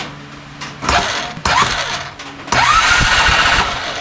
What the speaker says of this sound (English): I'm gonna hit the starter button